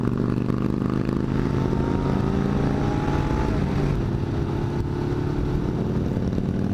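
A Yamaha motorcycle cruises alongside a Harley on an open road, its engine a steady, loud drone with a continuous low rumble and wind noise throughout, no voices.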